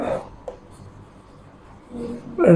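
Chalk or marker scratches on a board while writing out a matrix, with short rubbing strokes at the start and end and a quiet stretch between.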